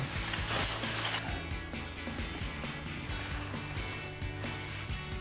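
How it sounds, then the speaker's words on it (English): A sharp spray of aerosol cleaner onto a Jeep Gladiator brake hub hisses for about a second, then stops, leaving a low mechanical hum and faint knocks. "So give it a good spray."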